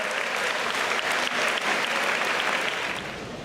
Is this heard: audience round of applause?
yes